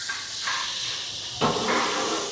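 Steady broadband hiss and bubbling of water heating toward a boil for cooking tapioca, close and continuous, with a brief louder surge partway through.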